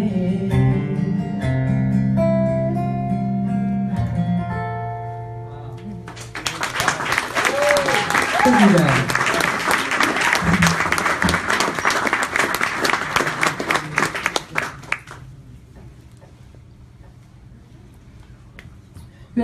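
A live audience breaks into loud, dense applause with cheers and whistles after a song's final sustained notes, clapping for about nine seconds before tapering off.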